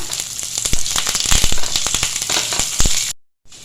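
Curry leaves crackle and sputter in hot oil for a roasted-coconut masala curry, giving a loud, close sizzle with dense popping bursts that stops abruptly near the end.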